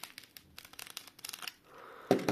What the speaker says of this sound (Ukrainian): Мы аккуратно разрежем вот так.